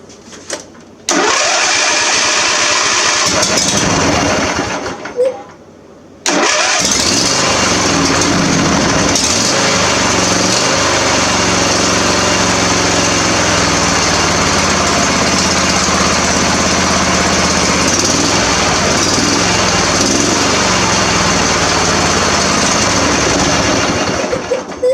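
A John Deere lawn tractor engine cranks on a cold start, dies briefly, then catches and runs loudly, settling into a rough steady idle close by.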